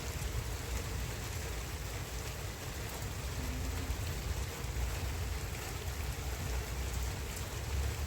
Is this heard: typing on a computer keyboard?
no